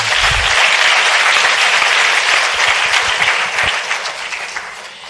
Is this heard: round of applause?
yes